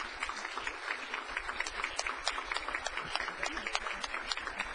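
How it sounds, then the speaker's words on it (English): A semifinal contest audience gives another round of applause, steady and somewhat distant, with quiet crowd noise underneath. "Let's give him another round of applause."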